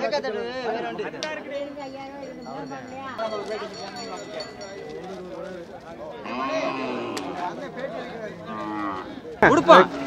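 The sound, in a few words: cattle at the Manapparai cattle market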